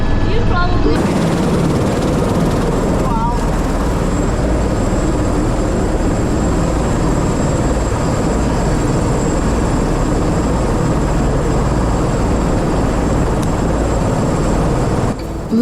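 Loud, continuous drone of a tour helicopter in flight over Niagara Falls, heard from inside the cabin as a steady roar for the whole stretch, with a voice faintly present beneath it.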